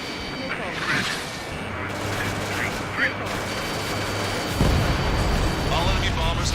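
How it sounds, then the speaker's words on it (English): Missile launch during an aerial dogfight against enemy bombers in Ace Combat 7: Skies Unknown, a rumbling whoosh and booms over continuous jet and battle noise, with radio chatter woven through. "missile launched."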